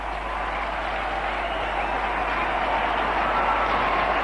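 A cricket stadium crowd in Kolkata applauds and cheers a century in the 1998 Coca-Cola Triangular Series final between India and Kenya, a continuous dense roar of clapping heard at a distance.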